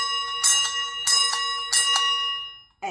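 A vintage brass boxing-style bell struck three times in quick succession, each ring loud, bright and close, with a long metallic decay before a brief final knock.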